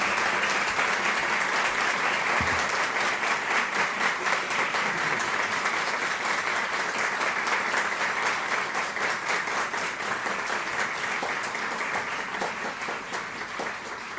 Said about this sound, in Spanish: Un fuerte aplauso a todos nuestros homenajeados y homenajeadas de hoy.